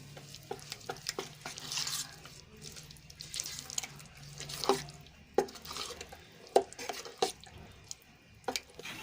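A spoon stirs and slaps through wet dhokla batter with turmeric and coriander-cumin powder in a bowl, with irregular squelching strokes at close range and no talking.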